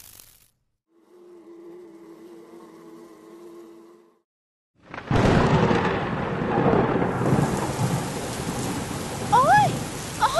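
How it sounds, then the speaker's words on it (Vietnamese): Rain and thunder in an animated cartoon: a soft tonal hum gives way to a sudden crash of thunder, then loud, steady, heavy rain continues with a couple of short whistling effects near the end. "Ôi, ôi, mưa thật các bạn ơi."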